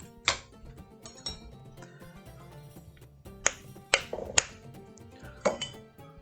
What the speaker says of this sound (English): I'm gonna put ice cubes in my tin